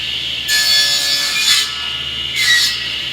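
A table saw cuts a wooden board for an end half lap corner joint, the blade biting in with two loud, bright rasping passes separated by a steady motor hum, up close with no talking.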